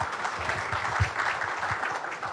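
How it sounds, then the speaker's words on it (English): At the CII Maharashtra State annual meeting, an audience gives a round of applause: a soft, even wash of many hands clapping, heard at a distance and sustained for a couple of seconds. "you have to give a round of applause for that."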